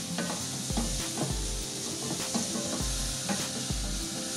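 Lamb cutlets sautéing in olive oil, a constant hiss of sizzling broken by regular dull knocks and scrapes as the cutlets are pushed around the pan, no talking.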